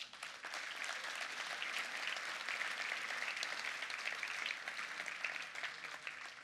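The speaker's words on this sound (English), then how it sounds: "Please give yourself a round of applause" Keynote audience applauding at Atlas Camp 2018, a dense, steady wash of many hands clapping that holds at an even, moderate level throughout with no voices over it.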